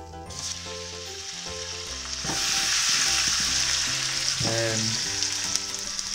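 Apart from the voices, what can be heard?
steak sizzling in olive oil on flat top pan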